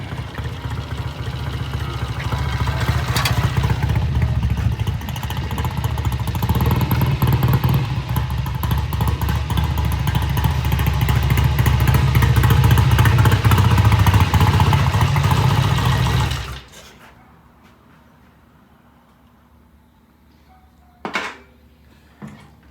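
A 1968 BSA A65 motorcycle on a road test ride gives a loud, steady engine drone with rumbling and wind for about sixteen seconds, then drops away to quiet with a brief knock.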